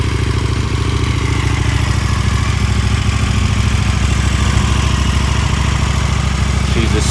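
A 2021 KTM 1290 Super Duke RR with an Akrapovic exhaust idles nearby, giving a loud, steady, unbroken rumble for the whole stretch.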